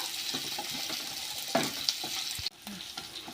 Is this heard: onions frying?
yes